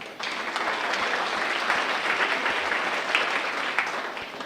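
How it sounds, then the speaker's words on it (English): A crowd at a teacher awards ceremony claps steadily in a dense, even round of applause that carries through without pause. "Give yourselves a round of applause."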